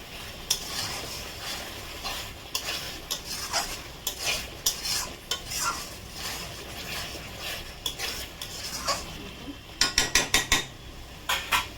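Fried masala for mutton curry is stirred in a pan, with irregular scraping and knocking of a spoon against the metal over a soft sizzle, ending in a quick run of five sharp taps, close and without talk.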